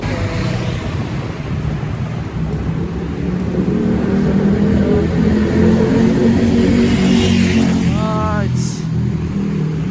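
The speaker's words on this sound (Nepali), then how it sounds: "खतरा बाइक है डुकाटी मोन्स्टर" A Ducati Monster motorcycle engine rumbles and revs steadily throughout, with wind buffeting the microphone and faint voices in the background.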